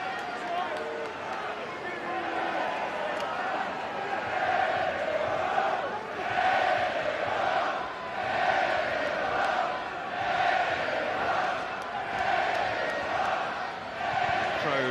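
Spectators at a 2024 URC rugby match between Edinburgh and Leinster roar in a swelling, sustained wave across the stadium, with a commentator talking over the noise.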